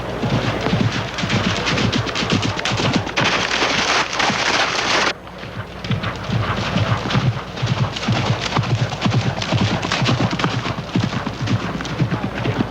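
Horses clip-clopping at a steady pace, hoofbeats close and continuous throughout with a brief dip in level midway, alongside faint rain-like patter and wind noise.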